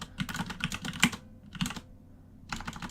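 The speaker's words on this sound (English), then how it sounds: "I actually have a cool keyboard that it feels fun to press buttons" Keys clatter on a computer keyboard nearby in quick bursts of typing with short pauses between, during a session of the roguelike game Dungeon Crawl Stone Soup.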